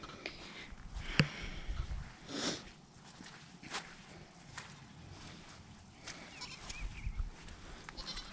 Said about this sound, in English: You can probably hear all the animals in the background.